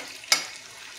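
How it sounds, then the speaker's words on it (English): Cubed steak frying in grease in a pan, a soft steady sizzle with one sharp scrape of a flat spatula across the bottom, close and alone. "I always take a flat side of a spatula when I'm frying and pick stuff up off the bottom with a spatula first"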